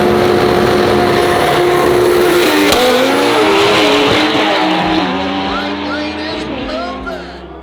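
A twin-turbo Lamborghini Huracan launches down a quarter-mile drag strip, its engine roaring loudly with rising, wavering pitch as the tires spin and squeal, then fading as the car pulls away.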